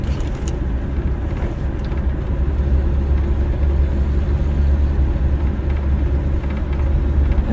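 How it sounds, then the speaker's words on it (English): A 1960 Rambler American with a flathead engine drives along with a steady, loud low engine rumble and road noise throughout, with no talking. "Flathead engine, you know, it drives like a much older car than it actually is."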